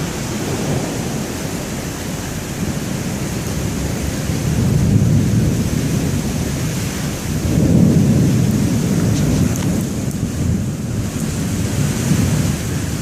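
Heavy rain pours during a severe thunderstorm in Dubuque, Iowa, a dense, loud roar with low rumbling swells of thunder rising and falling throughout.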